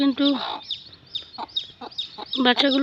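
A domestic desi hen clucks repeatedly close by, kept tied near her newly hatched chicks, with a run of short, uneven clucks and a few thin peeps mixed in.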